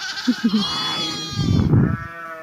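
Sheep bleat repeatedly inside a sheepfold, with short nearby calls early on followed by a longer, louder wavering bleat, all close and clear with no talking.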